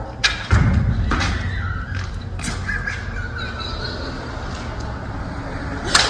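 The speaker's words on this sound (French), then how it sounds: "Je lance ma balle." A ball is hit during adult tennis-style training outdoors, giving a few sharp thuds and knocks at irregular intervals over a steady, noisy outdoor background, fairly close.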